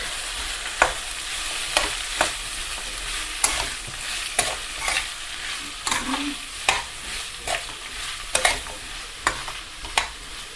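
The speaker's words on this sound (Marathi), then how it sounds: "आता आपण फुलकोबी टाकतोय, फुलकोबी, वटाणा, बीन्स, थोडीशी शिमला मिर्च आणि पत्ताकोबी आपण फ्राय करून घेऊया।" Cauliflower, peas, beans, a little capsicum and cabbage fry in a pan for vegetable khichdi, giving a steady crackling sizzle punctuated by regular sharp knocks of a spoon stirring against the pan.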